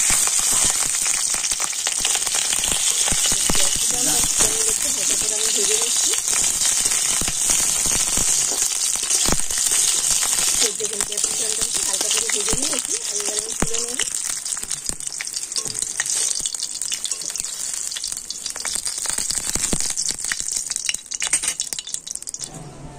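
Large chunks of capsicum fry loudly in hot oil while cooking a vegetarian potato curry, a steady dense sizzle and crackle running throughout with occasional stirring scrapes, close and alone without talk.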